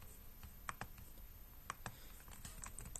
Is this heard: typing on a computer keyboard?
yes